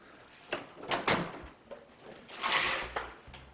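A heavy metal tool chest drawer slides open and shut, loud and close, with several rolling scrapes and clunks in quick succession.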